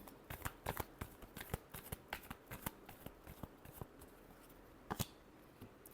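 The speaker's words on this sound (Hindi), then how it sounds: "last shuffle" Tarot cards are shuffled by hand in a quiet room, giving a run of soft, irregular riffling slaps and flicks, faint and close, with one sharper burst near the end.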